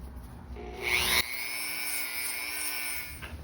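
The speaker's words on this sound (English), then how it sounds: "I'm just going to do a little sanding and clean up and removing sharp edges" A high-pitched Dremel rotary tool whirs steadily against a steel bale handle, sanding and removing sharp edges for a few seconds, close and fairly quiet.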